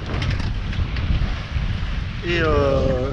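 An 18-knot wind blows across a sailboat at sea, a steady low buffeting rush over the microphone, with a brief wavering tonal whine near the end.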